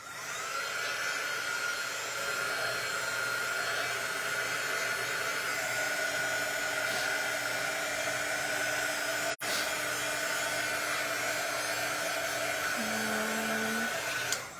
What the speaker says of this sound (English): Let's dry it just in case.